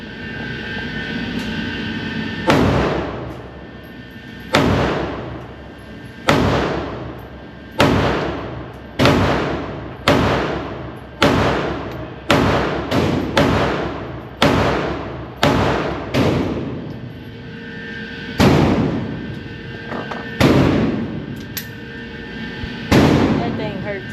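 A Girsan MC14 .380 pistol fired at 5 yards, about fifteen sharp loud shots in a steady, fairly quick rhythm with brief gaps, close and punchy, over a constant low hum.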